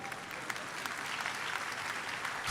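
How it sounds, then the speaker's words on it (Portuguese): An audience applauds steadily and fairly loudly throughout a lecture hall, a dense continuous patter of clapping with no voices rising above it. "Aplaudam vocês, parabéns."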